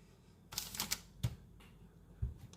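Pokémon cards get shuffled by hand in a few quick riffling bursts of crisp clicks and flicks, followed by a couple of soft dull taps, all close and fairly quiet.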